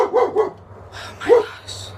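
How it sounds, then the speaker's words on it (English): Several dogs bark in short, sharp bursts at close range, a quick cluster of yaps followed by a couple more after a brief pause, indoors over a low steady hum. "they started barking all of a sudden"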